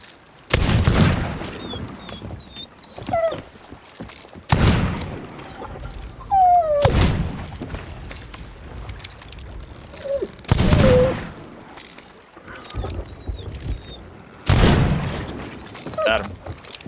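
Gunfire in a video game sounds as several separate sharp shots, roughly every two to four seconds and fairly loud. Faint game tones and effects sit between the shots, and there is no clear talking.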